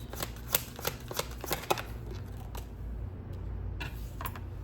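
Glossy tarot cards being shuffled up close, a run of crisp riffling snaps and slaps in quick bursts, then softer sliding, with no voices.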